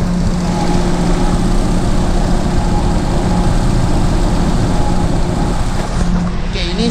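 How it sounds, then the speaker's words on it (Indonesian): A Proton Iriz engine with a dirty throttle body idles steadily nearby, a constant droning hum with little clear rise and fall, close and fairly loud throughout. "dia punya bunyi enjin tu kejap naik kejap turun"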